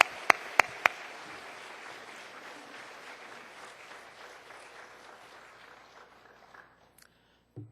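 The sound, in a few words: church congregation applause welcoming a pastor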